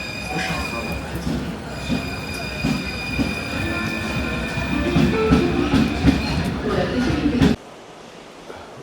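A Paris metro train rumbles loudly and close by, with rattling wheels and brief metallic squeals. The roar cuts off near the end to a much quieter ambience.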